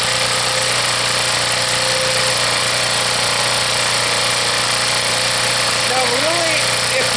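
A Harbor Freight generator running after a cold start with full choke, a loud, steady engine drone with a constant hum that continues unchanged throughout, a voice briefly heard near the end.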